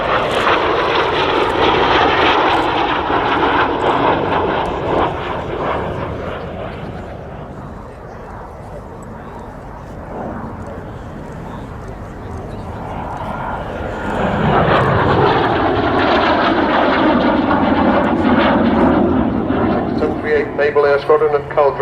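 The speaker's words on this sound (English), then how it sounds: "And here is the last pass, wing waggling from Coty, Lieutenant Commander Chris Jetche" A Royal Navy naval air squadron aircraft roars past at the RAF Cosford airshow, loud engine swelling, fading mid-pass, then surging again on a final wing-waggling pass while a commentator talks over it.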